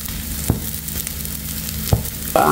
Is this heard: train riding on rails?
no